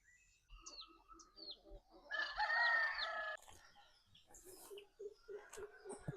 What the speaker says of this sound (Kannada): ಕೋಳಿಗಳು ತೋರಿಸ್ಕೊಡ್ತೀನಿ.